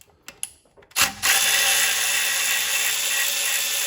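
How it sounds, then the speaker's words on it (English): After a few light metallic clicks, a power tool whirs up and runs steadily at high speed, spinning out the bolts of a car's oil pan in a garage. "Now that the oil is drained, we can start pulling the oil pan bolts."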